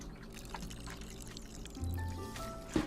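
Water pouring into a potted plant in the game Botany Manor, a soft steady trickle over a bed of quiet background music with faint chimes.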